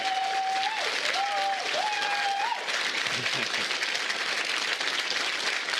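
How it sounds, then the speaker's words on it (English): Applause breaks out for election candidates at an election-night gathering, sustained loud crowd clapping throughout, with cheering voices and a brief whistle-like tone near the start. "we can get a round of applause to every single candidate that ran for us"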